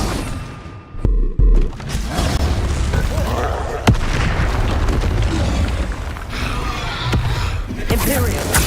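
Spell blasts from Bombarda and Confringo in the video game Hogwarts Legacy, several booming bursts and sharp pops amid dense combat effects and music, with a voice calling out over the fight.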